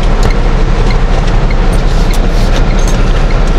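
Heavy rain pours down outside a parked car on a road trip from Kolkata to Puri, a loud, dense and steady roar of water that fills the whole stretch with no voices.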